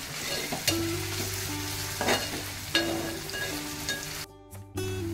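Onion and tomato sizzle and fry in a pan for a drumstick pod masala, with steady crackle and a few scraping stir strokes, close and alone, and a brief dip in the noise near the end.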